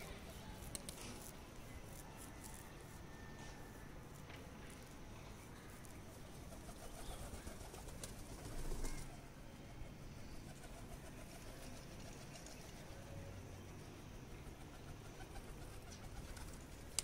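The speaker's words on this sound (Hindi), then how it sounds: "कबूतर ऊपर रह गए थे जिसमें ये ब्लैक और ये मादा कबूतर है" Faint pigeons, including a black one and a female, cooing in soft, low calls against a quiet background hiss.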